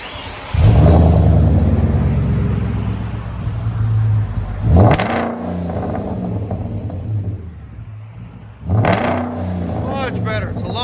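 A Hyundai Genesis 4.6L V8 with its muffler deleted idles with a deep rumble and is revved hard twice, each rev a sharp rising roar close by, while a person talks over it.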